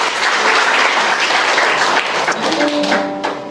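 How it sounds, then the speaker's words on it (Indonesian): A church congregation gives a loud, dense round of applause that fills the space, with some voices mixed in, and it thins out toward the end. "Kasih tepuk tangan dulu."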